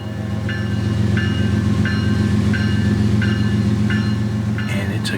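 A Southern Railway freight train led by a heritage locomotive rolls past at steady volume, its continuous low rumble overlaid by rhythmic metallic clicks from the wheels about every 0.7 seconds, with a brief high squeal near the end.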